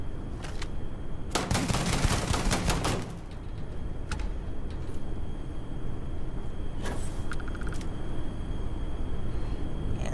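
Gunfire in Starfield, a dense rapid burst of shots followed by a few scattered single shots over a steady low engine-like hum.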